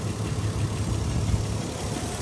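A naturally aspirated V6 engine of a classic Japanese car idles with a steady low rumble and even mechanical hum, close and continuous, with no talking.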